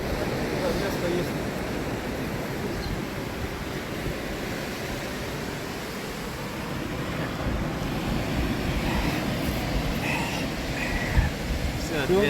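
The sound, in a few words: light ocean waves at Taylor's Mistake Beach, New Zealand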